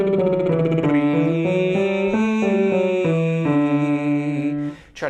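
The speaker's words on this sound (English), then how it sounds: "lip trill releasing into the E vowel sounds like this" A singer performs a lip trill that opens into an E vowel during a vocal warm-up over the break, a buzzing voiced tone stepping through a series of pitches up and down, steady and close, ending with a short noisy release.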